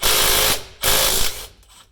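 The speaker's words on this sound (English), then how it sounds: "So we're just taking these bolts out one at a time." An impact ratchet removes axle-shaft bolts on a GMC motorhome, two loud close whirring bursts of roughly half a second each with a brief gap, then a quieter tail, no talking.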